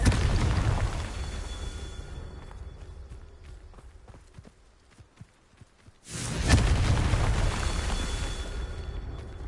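A Confringo fire spell explosion in a video game, a loud boomy blast roaring in and sustaining, then fading to low rumbling and movement before a second explosive surge rises sharply.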